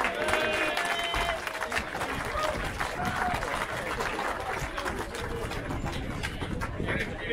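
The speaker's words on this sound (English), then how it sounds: "Can you give him a round of applause, please?" Crowd applauding a winning classic at an English county agricultural show, sustained outdoor clapping with a voice over a loudspeaker and some birds cooing in the background.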